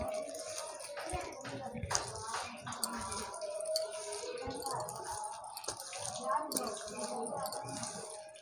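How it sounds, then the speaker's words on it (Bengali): Palm fruit is scrubbed and washed in water, giving a continuous sloshing, splashing and rubbing sound close by, with a person talking throughout. "তালটাকে মেজে নেব।"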